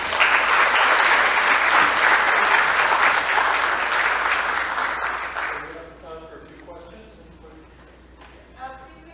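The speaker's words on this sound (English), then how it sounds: "they deserve a round of applause" Dense audience applause after a science lecture on the U.S. Antarctic Program, sustained and loud for several seconds and then fading out as a voice begins speaking.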